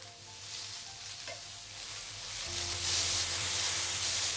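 Onions with garlic and ginger frying in a pan for an Andhra-style dhaba egg masala curry, a steady broadband sizzle that swells louder midway, with faint low hum and no speech.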